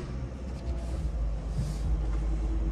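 Interior of a Maruti Eeco CNG with windows up, the engine idling as a low steady hum and rumble, faint and constant with no talk.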